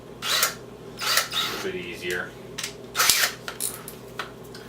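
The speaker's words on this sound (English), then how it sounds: "I'm going to drill a pilot hole in the back here" Power drill boring a pilot hole into the back of a jockey box, heard as short bursts of whirring and grinding separated by pauses, close to the microphone, while someone talks briefly over it.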